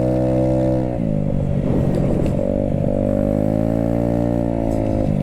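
A custom 49cc Honda Ruckus scooter riding along, its small engine droning loud and steady close by, pitch dipping and rising slightly as the throttle shifts.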